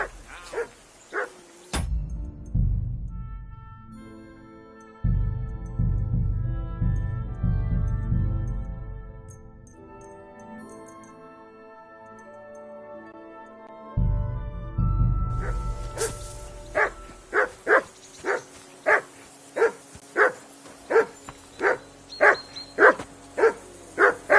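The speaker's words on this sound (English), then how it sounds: "Whistle at that mutt of yours to stop barking!" A dog named Mutt barks in Kingdom Come: Deliverance II, with bursts of barking, then long stretches of game music, then a fast run of sharp, regular barks at the end.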